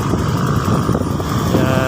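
Motorcycles lined up at night to board a RoRo ferry bound for Guimaras, engines rumbling steadily and fairly close with a continuous busy drone, faint voices mixed in beneath.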